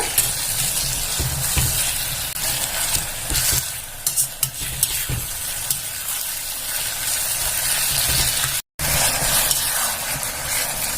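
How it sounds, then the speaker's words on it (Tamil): Tomatoes sautéing in a pan for tomato rice after ginger-garlic paste, a steady close sizzle with stirring scrapes throughout, briefly cut out near the end before resuming. "இப்போ தக்காளி போட்டுடலாம். நல்லா வதக்கிக்கோங்க."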